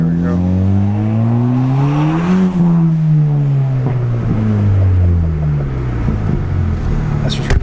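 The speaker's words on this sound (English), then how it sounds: "It makes all the proper turbo noises now." A Ford Fiesta ST rally car with a race exhaust and turbo revs hard, its engine note climbing to a loud peak before dropping away, then settling into a rougher, gurgling drone, close and prominent throughout.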